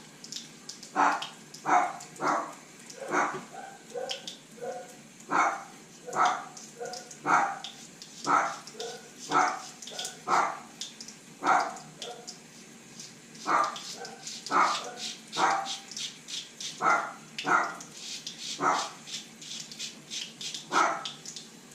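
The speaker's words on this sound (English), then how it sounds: "I have no idea what the dogs are barking at" Dogs bark repeatedly in bursts, some sharp yips among them, at moderate distance over a quiet background.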